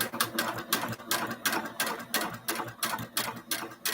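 An industrial sewing machine stitching leather at a 2.5 stitch setting, rapid rhythmic mechanical clatter in quick bursts, close and fairly quiet, with no talking.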